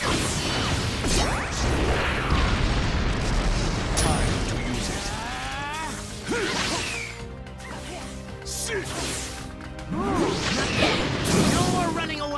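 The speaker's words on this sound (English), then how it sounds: "Fire style, Phoenix Fire Jutsu." Fire attacks from the Phoenix Fire Jutsu in the Naruto Ultimate Ninja Storm fighting game: whooshing bursts and crashing impacts with sweeping fiery swishes, mixed with shouted character voices and battle effects.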